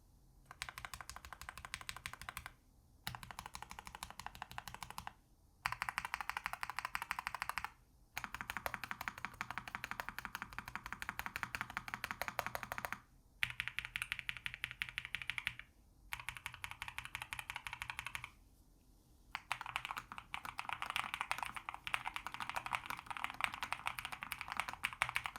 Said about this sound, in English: These switches have a really nice pop to them. They're fun and satisfying to type on